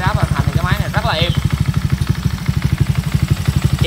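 A rebuilt Honda Wave motorcycle engine with a three-valve head, racing cam and 54 mm piston idles close by in a rapid, even putter, while someone talks over it.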